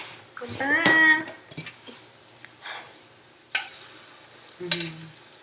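Sweet curry plantains frying in a pan, a low sizzle under a person talking, with a few sharp clanks of a utensil against the pan.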